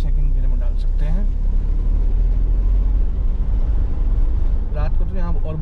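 Car climbing a mountain road in Shimla in second gear, a steady low engine rumble throughout with a person talking over it.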